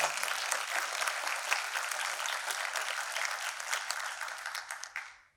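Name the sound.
audience round of applause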